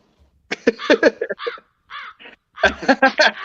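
A crow caws close by in a loud burst of repeated harsh calls, pauses, then calls again in another rapid series.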